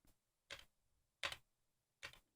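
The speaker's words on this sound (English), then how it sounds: "Cause right now you can hear my keyboard." Three sharp key taps on a computer keyboard, spaced about a second apart, close and quiet in an otherwise silent room.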